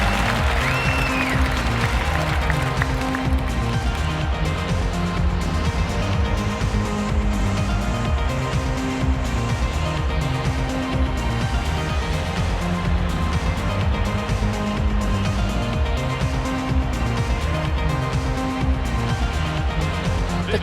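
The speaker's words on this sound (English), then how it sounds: "The crowd really starting to build and get behind them now." A stadium crowd at a volleyball match in the London 2012 video game keeps up a dense, steady roar of cheering and applause, loud and unbroken throughout, with a low musical pulse underneath.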